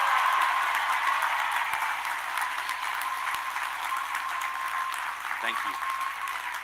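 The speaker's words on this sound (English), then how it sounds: "Please join me in a round of applause for these accomplished award recipients." A university commencement audience applauds award recipients, broad steady clapping from a large crowd filling the whole stretch, with a speaker briefly talking near the end.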